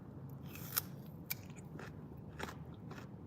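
Crunchy chip-like snacks being bitten and chewed up close, a few sharp crunches over a soft, steady background, quiet with no talking.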